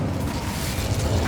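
Incendio fire spell cast in Hogwarts Legacy, a brief rumbling whoosh of flame with a low boom swelling toward the end, loud and steady throughout with no talk.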